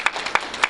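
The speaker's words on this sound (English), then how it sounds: "We'll clap for her anyway." At a school board meeting, a small audience claps thinly in the room, with a few sharp, scattered claps over about a second and no talking.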